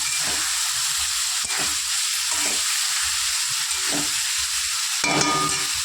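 Spice paste fries with a splash of water for a rohu fish curry with potatoes and flat beans, a steady close sizzle broken by soft scraping stirs at a slow, uneven rhythm.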